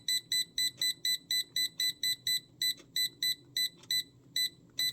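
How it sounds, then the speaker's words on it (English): A shrill electronic beep from an ANALOI 13.7-inch LED wall clock repeats in quick, even pulses, about three per second with a few brief gaps, loud and close with no talking. "Hopefully you can turn off the beeping."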